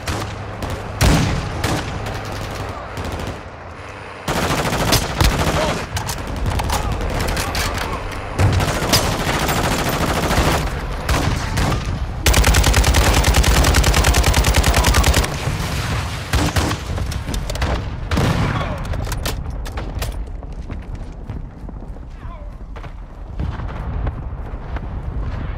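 A Call of Duty: Modern Warfare II battle rages with dense, continuous gunfire, bursts of rapid automatic shots and heavy booming impacts from a mortar strike, loud and sustained, with a radio voice briefly heard.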